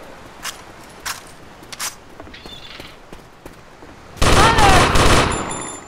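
Automatic gunfire in a video game: a dense, loud burst of rapid shots lasting over a second near the end, preceded by a few scattered single thumps and faint clicks.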